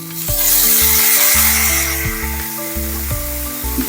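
Chicken sautéing with a splash of soy sauce for lechon manok paksiw gives a loud, steady sizzle close by. Background music runs underneath.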